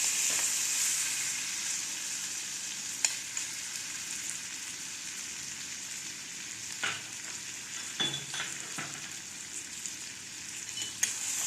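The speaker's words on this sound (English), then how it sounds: "This is my brown, nice, golden fried cauliflower. I'll mix up with the masala." Golden fried cauliflower frying in masala in a pan, a steady hissing sizzle with occasional scrapes and clacks as it is stirred, close with no talk.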